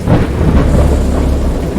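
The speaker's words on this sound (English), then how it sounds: "I know that I heard pearls of thunder and other tones which nature utters only in her wildest moods" Low rumbling thunder rolls under a steady wash of rain during a storm in the Dagon video game, loud and close throughout without any voices.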